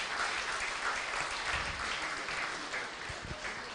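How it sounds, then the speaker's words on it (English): Applause from an audience at a school Founders' Day lecture, with a steady wash of clapping that is moderately distant and fairly quiet and runs throughout. "I think they deserve a round of applause."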